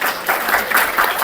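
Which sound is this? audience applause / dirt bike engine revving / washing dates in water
audience applause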